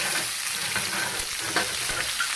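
Chicken thighs frying in oil in a covered pot, with a loud, steady close sizzle and crackle and scattered sharper pops throughout, and no one speaking.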